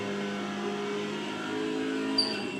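A race car engine in a CUPRA sim racing video game held at full throttle at Slovakia Ring, a steady sustained engine drone lasting throughout with no talk.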